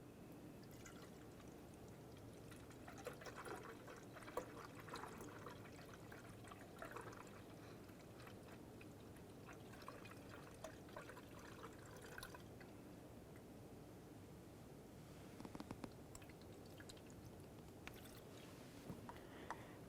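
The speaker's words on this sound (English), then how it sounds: "Now you can take your original reservoir and pour it right through this area." Coolant poured into the reservoir of a 2010–2013 Ford Transit Connect, a steady liquid trickle and splash running throughout at low level, with faint dripping and no talk.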